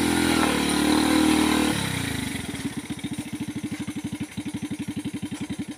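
Three-wheeled farm truck engine in slow gear three, a loud close drone at first that settles into a fast, even putting chug with regular pulses.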